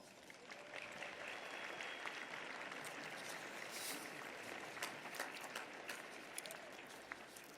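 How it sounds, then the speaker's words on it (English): Graduates and guests at a university commencement ceremony clapping in a broad, distant wash of applause that holds steady throughout, with faint crowd murmur. "give them your rousing applause."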